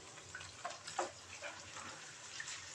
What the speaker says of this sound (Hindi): तो थोड़ा सा डाल देते हैं पानी।